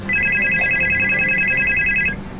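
A telephone rings aboard a private jet: a steady electronic double-tone trill runs for about two seconds, loud and close, with no voices over it.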